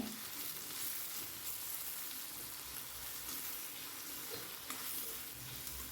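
Onion and tomato sautéing in oil for a spicy okra dish, a faint, even, continuous sizzle with light stirring and no voices.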